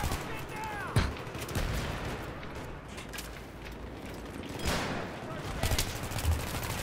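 Gunfire in a first-person shooter game on the Metro map, a steady crackling spread of distant and mid-range shots with a few sharper reports, heard under a busy, noisy battle ambience.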